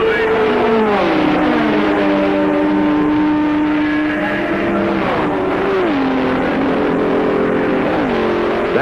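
At the 1966 Le Mans 24 Hours, Ford GT and Ferrari race cars roar along the Mulsanne straight with a loud, sustained engine drone, and the pitch drops in steps as the drivers shift gears.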